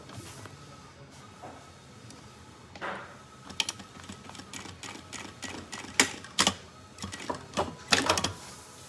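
Sewing machine stitching faux leather (napa) along an edge for a school backpack, starting quietly and building into rapid rhythmic needle clatter in repeated bursts, close by.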